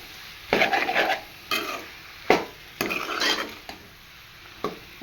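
A spoon scrapes and stirs capsicum potato curry with coriander powder in a pan in short repeated strokes. A faint sizzle sits underneath, and the spoon clinks against the metal.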